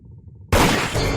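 A single sharp, loud gunshot fired in a VR video game, bursting out suddenly after a quiet lead-in and leaving a noisy, reverberant tail.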